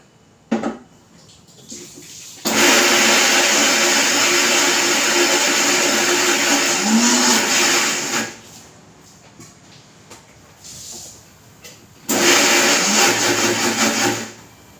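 Electric mixer grinder grinding soaked wheat for milk extraction, a loud steady whirring roar that runs for several seconds, stops, then starts again in a second burst, with short kitchen handling noises between.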